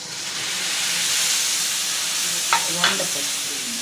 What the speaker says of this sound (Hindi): अब मैं डालूँगी इसमें मसाला